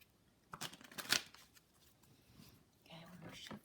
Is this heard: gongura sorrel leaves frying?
no